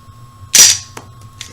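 A Smith & Wesson M&P 45 pistol, chamber empty, gives a single sharp dry-fire click up close during a function check, followed by a couple of faint mechanical clicks from the slide and trigger.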